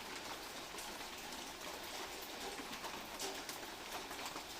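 Onion, tomato and green chilli sauté in a pan, producing a steady, soft sizzling hiss like light rain that continues evenly without pause, close and fairly quiet.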